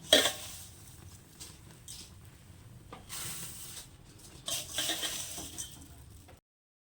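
Jaggery and flattened rice (chuda) stirred in a pan over low heat for til-chuda laddoos, giving soft scraping and rustling strokes, moderately close, with a few louder bursts of stirring and no talk.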